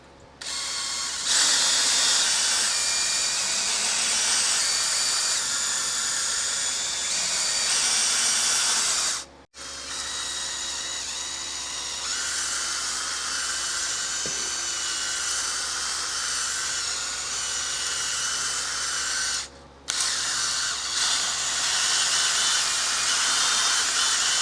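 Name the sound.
drill-driven hone honing Honda CB350 engine cylinders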